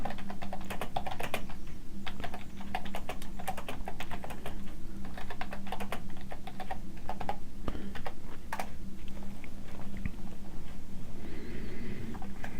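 Text is typed into a notebook cell on a computer keyboard in a steady stream of close, quick key clicks with brief pauses, with nobody speaking.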